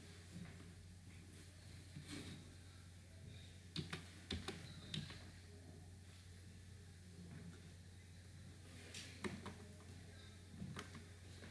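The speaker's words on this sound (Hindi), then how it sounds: "एक मिनट में टाइप करूँ" Soft, sparse keystrokes on a computer keyboard in irregular bursts over a steady low hum, faint and with no talk.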